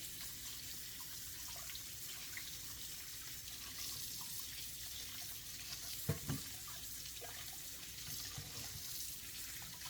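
Fresh ginger rinsed under a running kitchen tap while preparing beef pho: a steady, soft stream of water pouring into a sink, with a brief clatter partway through.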